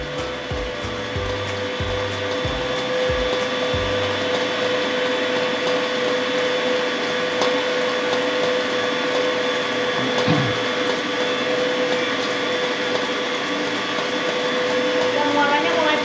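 Electric mixer whipping cake batter thick enough to hold beater trails, a continuous loud whine that persists throughout with a few knocks near the start.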